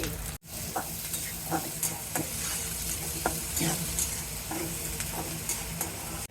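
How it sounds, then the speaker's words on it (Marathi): Onion fries in oil with curry leaves in a wok for vada pav filling, a steady sizzle broken by regular scraping stirs of the spoon, close and without talk. "कढईमध्ये दोन चमचे तेल टाकून त्याला कढीपत्त्याची फोडणी देऊन त्यामध्ये कांदा टाकून कांदा परतवून घेणार आहे"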